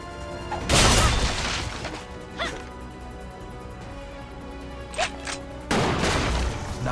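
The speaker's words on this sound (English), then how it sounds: "Take a rifle from this box and shoot the brazier." A rifle firing at a brazier in Blade and Soul, with loud sharp shots and impacts spaced across the scene, one near the start and another toward the end, plus smaller clanks between.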